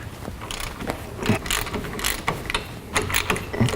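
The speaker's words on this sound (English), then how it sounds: "We broke it loose with the ratchet." A ratchet works a brake caliper bolt loose on a Toyota Camry during a brake pad job, giving a run of quick, close metallic clicks at a fairly even rhythm over a quiet garage background.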